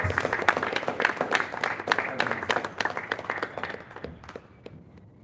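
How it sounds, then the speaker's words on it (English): An audience at a health forum launch claps for an honoured guest, dense clapping that holds steady for several seconds before thinning out and fading near the end. "So let us clap for Honorable Hilton"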